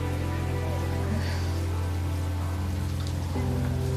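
Even, continuous rainfall hiss under a low steady hum, with no distinct drops standing out.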